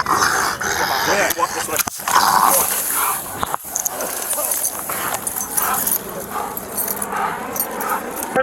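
A police K9 dog growls and barks loudly and close during a tense arrest, its snarls mixed with shouting voices and scuffling noise.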